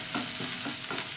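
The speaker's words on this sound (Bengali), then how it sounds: "টমেটোটাকে দিয়েও 2-3 বার মতো একটু নাড়াচাড়া করে দিচ্ছি" Chopped tomato fries in a hot pan as a spoon stirs it, giving a steady sizzle with a few soft scraping strokes, close and without talk.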